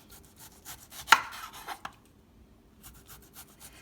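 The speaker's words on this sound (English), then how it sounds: "go ahead and start slicing my tomatoes up" A knife slicing green tomatoes into quarter-inch rounds for frying, heard as a few soft close cuts with one sharp crisp stroke near the middle, then quiet.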